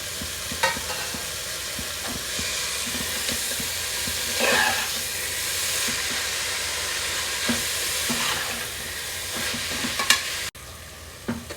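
Masala and spinach (palak) sizzle steadily in hot oil for a lentil pilaf, with repeated scraping stirs across the pan, close and fairly loud, alone without talk.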